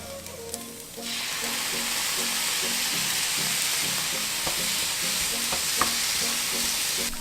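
Soy sauce hits a hot pan of vegan keto fried rice: after a second of quiet clinking, a loud hissing sizzle bursts in and carries on steadily, punctuated by rhythmic spatula taps and scrapes close by.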